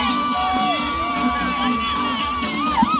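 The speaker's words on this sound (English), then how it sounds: "Cheer them on as they're coming on their home stretch." Spectators cheer loudly as teams in a women's tandem race near the finish line, a sustained roar of shouts and whoops with children's voices rising and falling.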